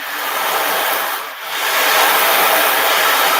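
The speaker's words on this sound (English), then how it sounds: "And this is like the sounds of the ocean." A steady wash of rushing, rolling rattles like surf on a shore, swelling and easing once, made by beads or pellets sliding inside a drum.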